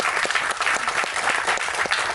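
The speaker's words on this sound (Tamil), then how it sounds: "அது சொன்ன உடனே எவ்வளோ கைத்தட்டல் பார்த்தீங்களா?" Audience applause at a Tamil film speech event for the movie Seesaw, a loud, dense burst of many hands clapping continuously throughout.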